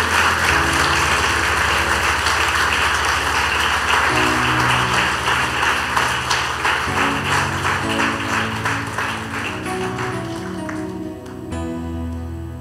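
A church congregation applauds steadily and loudly while music plays underneath, the clapping thinning out toward the end.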